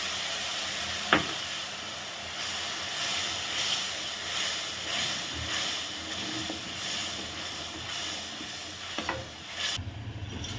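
Spiced yogurt masala poured onto onions frying golden in a pan for an aloo and egg curry, giving a steady close sizzle with a sharp hit near the start and stirring clatter, then a brief quiet stretch at the end.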